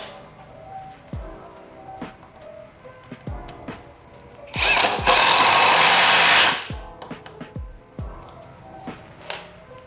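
Nagawa NID213K impact driver run at speed 4, a loud dense whirring burst of about two seconds in the middle, surrounded by scattered clicks and handling knocks.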